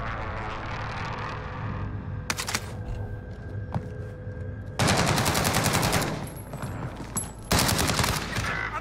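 Heavy gunfire in a first-person shooter video game, with rapid automatic bursts and sharp sniper-style shots, loud and continuous with dense repeated volleys and little talk.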